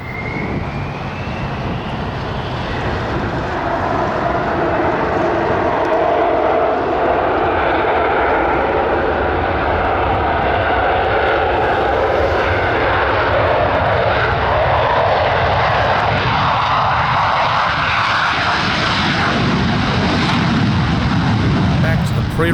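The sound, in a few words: F-16 fighter jet engine thrust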